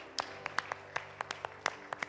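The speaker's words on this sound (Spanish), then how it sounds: "Nos despedimos con un aplauso, familia" Sparse clapping from a small church congregation at the close of a Sunday service, with a few hands giving quick, uneven claps. It sounds faint and somewhat distant, with no talk over it.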